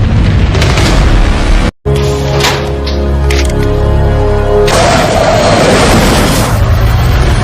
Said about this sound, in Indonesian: Sebuah rudal berhasil memporak-porandakan markas Louis.